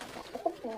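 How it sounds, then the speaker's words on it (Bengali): Pakistani flying pigeons in a large collection coo softly in a few short, throaty calls at close range, with no talking. "একসাথে এত পাকিস্তানি পায়রা"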